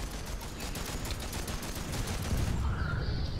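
Rapid bursts of gunfire from a base in the video game Planetside 2 crackle densely and steadily, close and fairly loud, with no talk.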